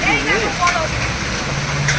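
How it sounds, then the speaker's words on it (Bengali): Hailstones coming down during an outdoor rainstorm, a dense, steady hiss and patter heard close by beneath excited voices talking throughout. "শিলা বৃষ্টি হচ্ছে"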